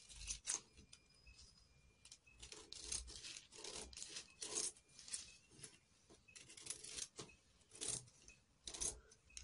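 Scissors cutting through paper or fabric for a straight long skirt pattern, a steady run of close, crisp snipping and rasping strokes with brief pauses between cuts.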